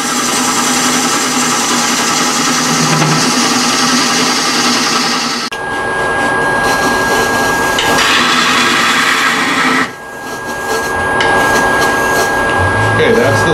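A wood lathe spins steadily while a carbide tool cuts a tenon into the turning blank, producing a loud, continuous scraping drone with brief shifts in tone as the cut changes.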